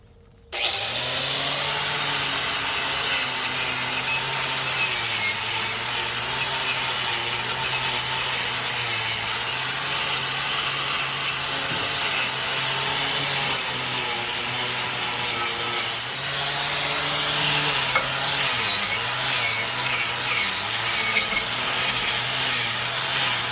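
Power tool grinding and brushing rust off the nut heads of a Taylor 962 three-point tiller, a heavy-duty farm implement; a steady, loud, abrasive whine runs continuously near the mic for the whole stretch, with slight shifts in pitch as pressure changes.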